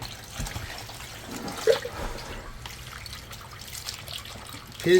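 Faint running water and trickling as cut, salted fish is rinsed, a soft continuous wash with a small splash near the end.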